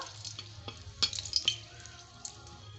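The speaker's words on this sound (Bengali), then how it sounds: "এখন আমি ফোড়নে দিয়ে দিচ্ছি দুটো শুকনো লঙ্কা কি দারচিনি এলাচ লবঙ্গ এগুলোকে একটু ভাজা ভাজা করে নেব" Dry red chillies, cinnamon, cardamom and cloves frying in hot ghee in a pan, a faint, steady sizzle with a few light clinks and scrapes of a spoon against the metal.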